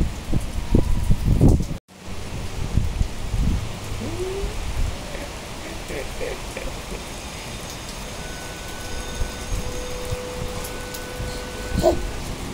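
Steady rain falls throughout, a continuous hiss with a few louder bumps near the start and some faint tonal sounds in the background.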